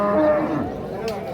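A cow moos at a busy cattle market in Dhaka where mid-sized crossbred bulls are sold: one long, loud, close, low call that fades out, with market noise behind it.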